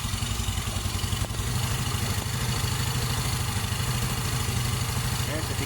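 An automatic scooter engine idles nearby with a steady, rapid low-pitched putter, its fast even pulses running throughout under a voice speaking.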